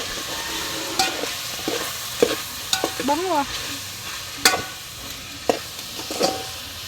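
Cooked food is sautéed in a pan, giving a soft sizzle broken by sharp, repeated scraping and clinking stirs. A brief voice speaks, and a short whistling chirp rises in the middle.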